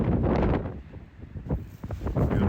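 Strong wind buffets the microphone in heavy low rumbling gusts in Iceland, rising and falling, with a hint of open water in the background.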